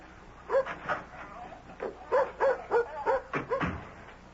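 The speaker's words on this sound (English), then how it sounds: "may I take the dog down to the beach?" A dog in a CBS radio mystery drama gives a string of short, close barks and yips mixed with whimpers, coming in uneven bursts with brief pauses between them.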